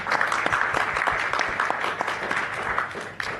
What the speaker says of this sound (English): We need a applause for that,